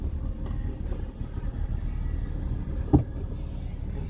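A four-wheel-drive vehicle set in four-wheel high idles steadily in neutral, a low, constant engine rumble close by with one brief knock partway through.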